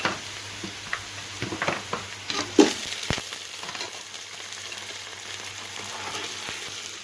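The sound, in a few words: chicken frying and stirring with browned onions in a pan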